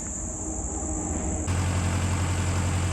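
A tractor engine running near a large oak tree stump, a steady droning idle that steps up louder and fuller halfway through, with a thin high whine over it and no talk.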